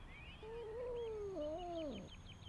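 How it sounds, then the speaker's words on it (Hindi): A cartoon cat stuck up a tree gives a long, wavering, rising-and-falling meow, loud and close, with faint high chirps behind it and no talk. "यहाँ एक बिल्ली दरख्त में फंस गई है"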